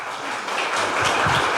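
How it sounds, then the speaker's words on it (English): A crowd at a political campaign stop in Cedar Rapids breaks into brief applause for an introducer, with the clapping swelling over a second and a half. "give him a round of applause, please"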